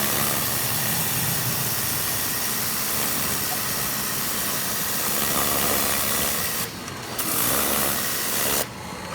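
An 1100 psi pressure pump runs steadily while cleaning tile grout, giving a continuous loud motorized hiss and hum throughout, with two brief dips where the spray cuts out near the end.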